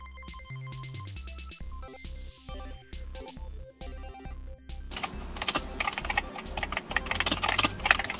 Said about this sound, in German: Wir schreiben einfach mal irgendwas Belangloses da rein, damit wir was in unserer Datei drinstehen haben.